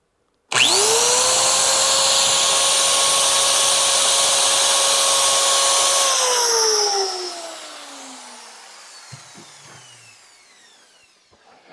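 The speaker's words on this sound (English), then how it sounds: "Okay, so here is the hand drill." A hand drill powered by a 24V 4000W pure sine wave inverter spins up sharply and runs at a steady loud whine for several seconds, then winds down and stops, leaving faint clicks.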